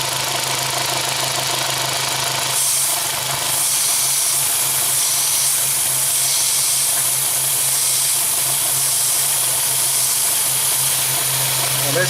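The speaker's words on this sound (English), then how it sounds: "There's a L-shaped hose that goes straight into the intake manifold," A steady hiss from a vacuum leak at an L-shaped hose feeding the intake manifold of a 2001 Audi Quattro, running continuously over the loud, close rumble of the idling engine.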